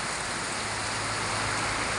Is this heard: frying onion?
no